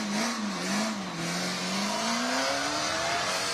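Engine of a 1987 Porsche 944 race car pulling away at a hillclimb, a steady loud drone rising gradually in pitch as it accelerates, continuous and close without talk.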